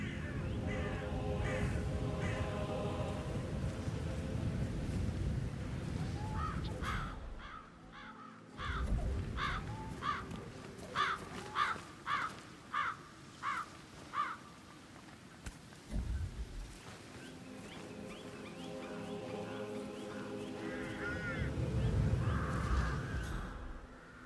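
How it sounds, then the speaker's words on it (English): Crows cawing loudly and repeatedly in the stealth game Hitman 3, harsh calls in quick runs with some layered together, over a low rumbling ambient bed. "Damn birds!"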